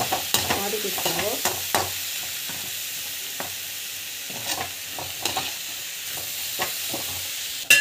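Food sautéing in a pan on a home stove, with a steady background sizzle broken by repeated close scrapes and stirring strokes of a spatula, clustered early and then spaced out, with no talking.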